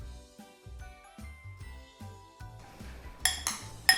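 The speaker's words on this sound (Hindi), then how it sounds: "मिक्स कर लेते हैं।" A spoon clinks against a bowl while sweet potato chaat is mixed with lemon juice, giving a few light taps and tinkles. Brighter metallic chinks come near the end. Music plays softly underneath.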